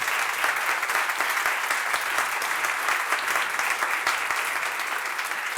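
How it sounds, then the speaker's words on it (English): Audience applause at the close of an interview at a behavioral science summit, a steady dense wash of clapping from a sizeable crowd sustained evenly throughout, with no voices over it. "So please let's have a big round of applause for Cass Sunstein."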